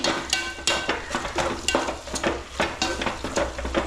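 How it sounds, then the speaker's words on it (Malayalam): Tomatoes are stirred into a frying beef curry in a home kitchen, a spoon scraping and clattering through the pan in quick repeated strokes over a steady sizzle, close and alone. "തക്കാളി ഇട്ട് ഒന്ന് ഇളക്കി"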